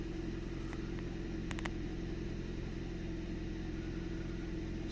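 A Nissan Micra engine idles steadily after a fuel filter replacement, a constant low droning hum close by, broken only by a few faint clicks, with no talking.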